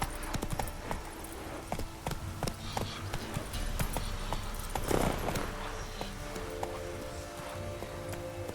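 Horse hooves from The Witcher 3 clop steadily in a quick, even rhythm, close and continuous over a low ambient bed, with a brief swell of noise midway.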